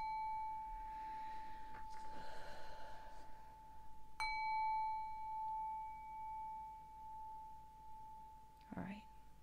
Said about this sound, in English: Let's ring the bell a little bit.